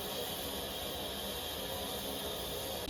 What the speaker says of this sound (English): Out at the platform, Stanier Mogul 13268 arrives.